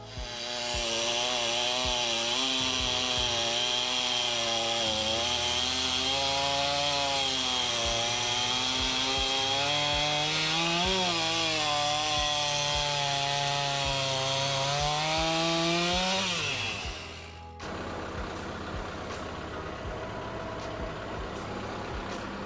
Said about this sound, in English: fence posts or fence boards, and you can get quite a bit of those out of even these smaller trees, because we're cutting them like 3/4 of an inch